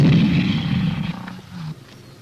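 Tanks firing covering fire during a 1983 military exercise: a loud, deep blast that rolls into a heavy low rumble and fades over about two seconds.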